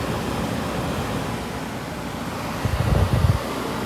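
A 2001 Kenmore 8,000 BTU room air conditioner runs with a steady, loud rush of blowing air. A brief low rumble swells near the end.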